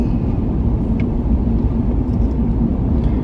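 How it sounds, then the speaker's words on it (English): Steady road traffic rumbles around a moving car, a dense, loud engine and tire drone with a faint passing tone and no speech. "is the traffic getting a little crazy?"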